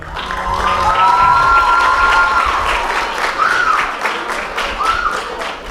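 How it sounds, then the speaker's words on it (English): Loud applause and cheering from a crowd at an eighth-grade graduation ceremony, a dense wash of clapping with whoops and high shouts rising over it, sustained and close throughout. "Please give them a round of applause for our MCs, Abdu and Dani Hai"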